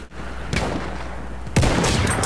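Gunfire in the Battlefield 1 video game lands headshots: two sharp, loud shots about a second apart ring out over a continuous game background.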